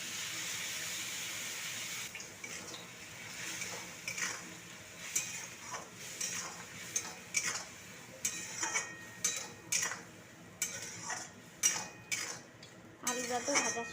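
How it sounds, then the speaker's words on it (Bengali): Poppy seed paste is poured into a pan of fried onion greens and potatoes and stirred, with a spoon scraping and clinking against the pan in irregular strokes over steady kitchen background noise. "এবার আমি পোস্তটা ঢেলে দেবো।"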